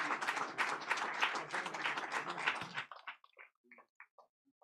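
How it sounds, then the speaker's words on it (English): Applause from an audience at a No Rearm, No War peace rally in The Hague, a dense burst of clapping that thins out after about three seconds into a few scattered claps. "Applause."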